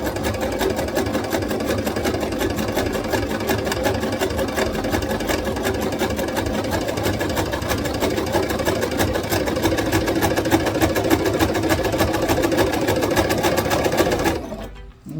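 A sewing machine zigzag stitches over dental floss on fabric, running at a fast, steady mechanical whir with rapid needle rattle close to the microphone for about fourteen seconds before stopping abruptly.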